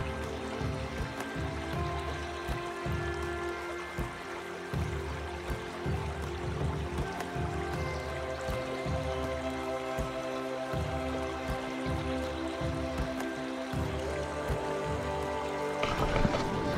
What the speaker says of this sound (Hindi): और साइड में रिवर है.